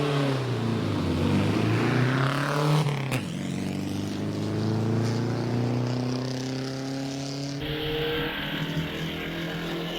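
A vintage racing car with a supercharged 1.5 litre Riley-based engine at a Vintage Sports-Car Club hill climb at Prescott: a loud engine revs with rising pitch, shifts about a third of the way through, then keeps droning steadily.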